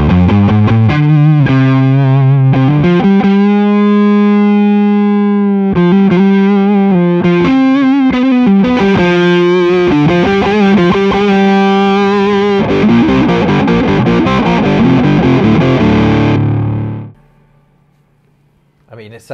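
Gibson Les Paul Studio played through an EHX Green Russian Big Muff fuzz pedal, loud saturated chords and riffs forming a thick wall of fuzz, ending in a sustained ringing chord that cuts off near the end.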